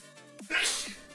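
A single close sneeze from a person during a live marble-racing stream, short and sharp, with a brief breathy intake just before it and quiet background otherwise.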